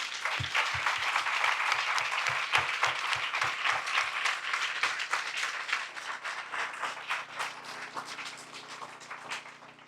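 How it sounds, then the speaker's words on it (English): Sustained applause from an audience at a Community Foundation of Louisville event, with dense clapping that starts loud and strong, a few sharp individual claps standing out early, and a gradual fade over ten seconds. "give them and every other doer, dreamer, and everyday navigator a big round of applause"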